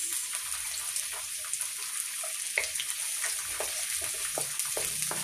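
Garlic and onion frying in oil in a pan, a steady broad sizzle with scattered small clinks and stirring sounds, close and continuous with no talking.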